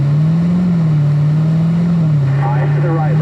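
Car engine on a driving-course track, a steady, fairly loud drone holding an even pitch throughout with no clear gear changes, as the car gets going under driver instruction.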